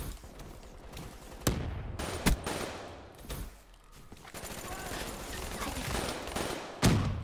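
Hip-fire gunfire in Call of Duty Black Ops III Demolition mode, with several sharp, loud bursts of shots scattered through a busy game mix over steady background noise.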